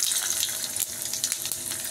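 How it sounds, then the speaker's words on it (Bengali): Whole spices hit hot oil for a Bengali lau chingri (bottle gourd and prawn) curry, giving a bright, crackling sizzle that spits and hisses steadily at close range. "এবার আমি গরম তেলেই ফোড়নগুলো দিয়ে দিই।"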